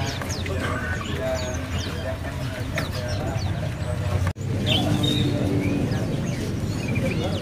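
An ekekeling bird sings at a bird market kiosk, with repeated short bright whistled chirps over a steady busy background of many other birds and voices.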